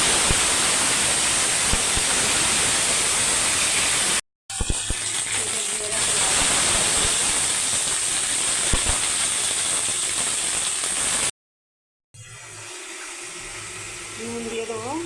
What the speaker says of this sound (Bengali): জিরে ফোড়ন দেবো, একটা তেজপাতা দিয়ে দেবো,